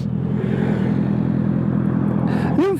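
Motorcycle engine on the road mid-ride, a loud steady drone with wind roar close to the rider, ending in a short rising whine as it changes pace.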